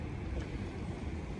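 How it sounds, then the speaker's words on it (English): Small electric trolling motor on a fishing boat on a river, a steady low hum blended with water wash and wind noise, continuous and close with no talking. "I never did get the trolling motor turned off."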